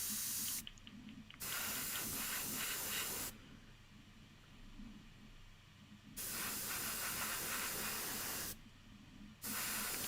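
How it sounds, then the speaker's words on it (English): Air compressor for a miniature-painting airbrush runs in steady hissing spray bursts, several seconds each, with short gaps between them, close and fairly loud with no talk. "There's the compressor."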